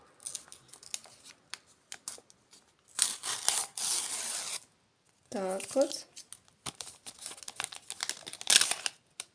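A paper surprise packet is carefully torn and peeled open in bursts of crinkling and ripping, with pauses between, while a person talks nearby.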